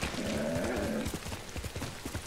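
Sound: horse hooves and whinny in video game Ghost of Tsushima

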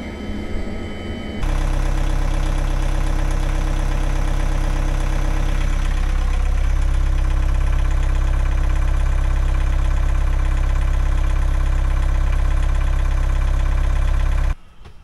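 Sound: narrowboat engine running after alternator belts tensioned

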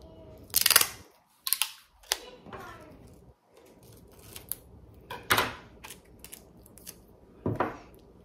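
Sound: tape being handled to secure ribbon

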